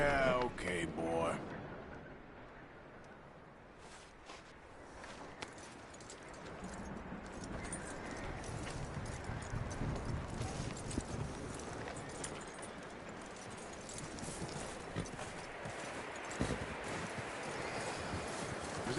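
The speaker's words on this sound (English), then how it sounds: "That looks like a decent horse." Steady clip-clop of horse hooves at a trotting rhythm over a wide, noisy background, continuing throughout, from the video game Red Dead Redemption 2.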